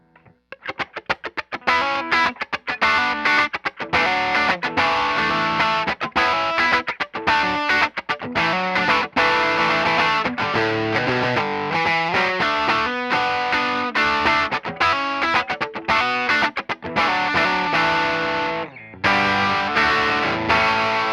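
Electric guitar through a TS9 overdrive pedal set to light overdrive, played continuously with dense chords and riffs, loud and steady with a brief pause near the end.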